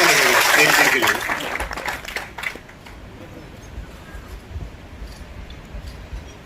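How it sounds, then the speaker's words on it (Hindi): Loud applause from an audience at a gathering, a dense burst of clapping that fades after about two seconds into murmuring room noise. "एक बार जोरदार तालियां बजाएं।"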